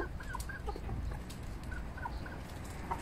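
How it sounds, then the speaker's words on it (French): Several farmyard hens cluck and grumble close by, with short, repeated clucks scattered over a low, continuous background rumble. "il y a les cocottes qui râlent"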